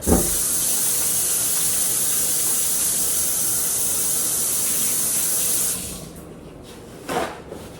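Tap water runs in a steady, loud hiss while someone washes their hands in a home kitchen, then cuts off near the end, followed by a brief splash.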